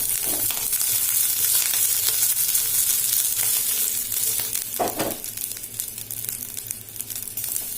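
Garlic sizzles steadily in hot oil in a pan while fenugreek chutney is being made, a dense continuous crackle with a couple of brief stirring scrapes and no talking.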